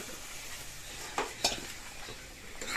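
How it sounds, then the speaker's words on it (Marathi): Kolhapur-style crab masala is sautéed in a pan at a quiet, soft fry, with a couple of sharp spatula clinks and scrapes against the metal. "हे बघा, मी आता असं परतून घेत आहे."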